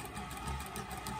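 A Consew servo motor on an industrial sewing machine runs slowly at low RPM, giving a steady, continuous mechanical whir with a low hum that carries evenly and close by.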